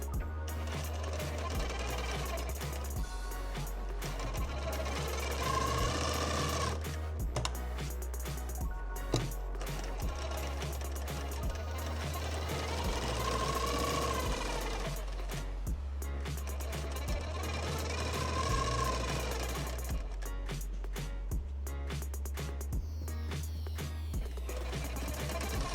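A sewing machine stitches a princess cut blouse, its needle mechanism chattering in a steady, continuous run for most of the stretch, with a few brief pauses and restarts, fairly close and loud with no talking over it.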